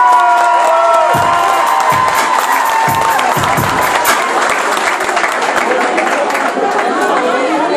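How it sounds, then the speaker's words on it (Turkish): Wedding guests applaud the groom with a dense, loud wave of clapping mixed with cheering and crowd chatter, while a voice speaks over it and a few deep thumps land early on. "Damat Bey güzel alkış aldı efendim"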